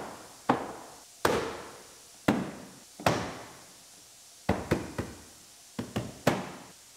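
A bumper installation tool snaps the sides of the rear bumper into place on a 2017 GMC Terrain SLE, making sharp, close knocks and taps. They come singly and in quick clusters of two or three, with quiet gaps between them.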